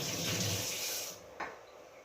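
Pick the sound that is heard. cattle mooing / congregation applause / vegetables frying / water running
water running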